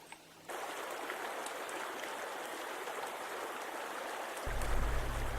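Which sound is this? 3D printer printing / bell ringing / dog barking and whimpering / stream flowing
stream flowing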